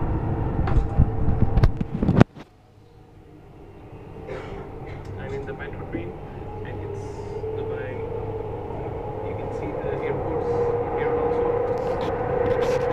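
A Dubai Metro train runs at speed, a steady rolling rumble and hum that builds after a sharp clunk and brief hush, with voices talking over it.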